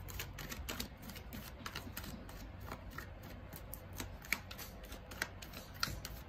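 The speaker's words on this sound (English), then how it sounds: "I am not shuffling right." Rapid, dense riffling and clicking of tarot cards being shuffled close up, continuous with a few sharper snaps, no talking.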